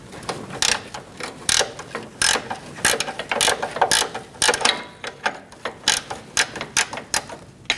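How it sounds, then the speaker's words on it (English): A ratchet wrench loosens a front lower control arm bolt on a 2016-2019 Chevrolet Cruze, making rapid bursts of sharp clicking close by, repeated in uneven runs with short pauses between strokes. "Once you get it cracked loose, I'm going to switch to a ratchet wrench."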